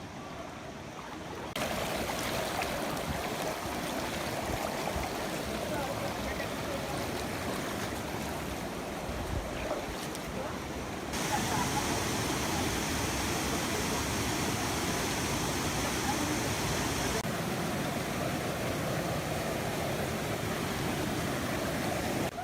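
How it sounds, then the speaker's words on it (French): Cascading waterfalls and a flowing stream in the Zagora region of Morocco, heard as a steady, full, hissing rush of water, close and loud, that swells in intensity at moments and continues without speech. "J'atteins finalement non sans mal mes premières cascades"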